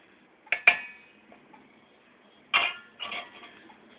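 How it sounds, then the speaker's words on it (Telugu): Finely chopped cucumber pieces drop into chutney paste in a bowl with a few sharp clinks of a utensil against the dish, two short clusters separated by quiet, close and distinct. "ఇప్పుడు ఈ పేస్ట్లోకి మనం ఇందాక తరిగి ఉంచుకున్నాం కదా, సన్నగా తరిగిన దోసకాయ ముక్కల్ని వేసేసుకుందాం."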